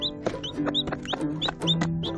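A hen clucks steadily to her chicks during feeding, a run of short close clucks with faint chick peeps mixed in.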